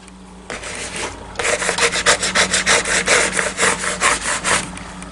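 A surface is smoothed by rubbing during Cricut print-and-cut sticker making, producing a quick run of a dozen or so rhythmic scraping strokes, close and loud, after a short quieter start.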